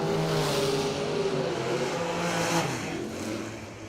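Drag race cars, including a 6-cylinder Stalker, launch and roar hard at a bracket race, with a loud continuous engine rumble that fades slightly toward the end.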